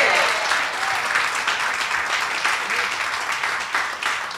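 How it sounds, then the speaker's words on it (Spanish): Applause fills a church service, an audience clapping in a broad, steady roar with a few sharper claps showing through, holding at even strength for several seconds with faint voices mixed into the crowd noise. "Y yo también aplaudo ahorita"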